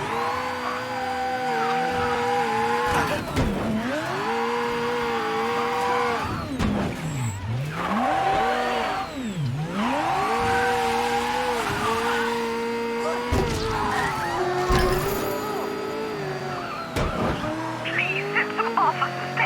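Engine of a car in a video game revs and shifts through rising and falling pitch sweeps, loud and sustained, with tire squeals and skids as it drives.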